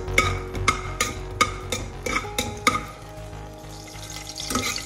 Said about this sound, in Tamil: பிரியாணி இலை, பட்டை, லவங்கம் நாலு டு ஆறு பீஸ் லவங்கம் ஒரு வாட்டி நல்லா வதக்கி